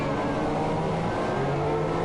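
Formula 1 cars in an F1 racing video game at the US Grand Prix, rolling off slowly and staggered onto the formation lap, a steady low engine drone with whining tones, continuous and moderately loud, no talk.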